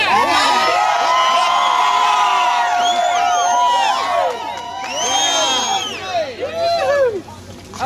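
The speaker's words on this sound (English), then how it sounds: "Let us hear a cheer for the men and women who are fighting this battle for us" A crowd at a nighttime candlelight vigil cheers and whoops, many overlapping voices rising and falling in bursts over several seconds, loud and close with shouts layered throughout.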